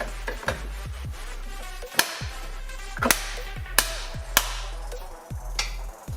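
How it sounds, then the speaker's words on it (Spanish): Sharp plastic snaps and knocks as door trim covers are pressed back into place on a BMW E90 door, several distinct clicks spaced over a few seconds against a steady low hum. "ahora ponemos los embellecedores otra vez"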